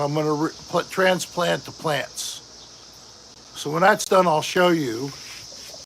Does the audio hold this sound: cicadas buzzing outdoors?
yes